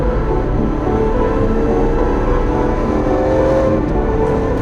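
A Lamborghini Aventador SVJ's 6.5-liter V12 exhaust roars loudly and continuously, close up and alone, holding a dense, steady engine drone with no voices.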